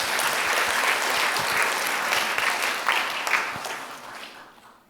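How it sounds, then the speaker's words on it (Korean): A church congregation bursts into applause during a Sunday afternoon service, a loud, steady wash of many hands clapping that fades out over about five seconds. "우리 장로님들을 위해서 박수 한번 주세요."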